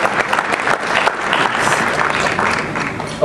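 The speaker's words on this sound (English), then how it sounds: "Give yourselves a round of applause." An audience at a speech breaks into dense, sustained applause, a steady wash of clapping heard close and alone.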